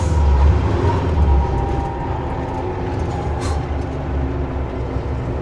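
An Oshkosh M1070 HET 8x8 heavy military truck driving at about 35 mph through an industrial park, with a loud, steady low engine rumble and road noise heard from inside the cab.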